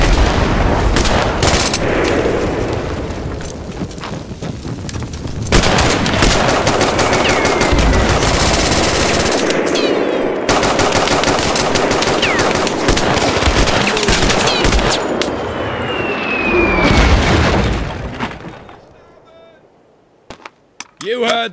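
Sustained rapid machine-gun and rifle fire from the video game Mud and Blood, loud and dense, with shouted voices mixed in, tapering off near the end into a few isolated shots.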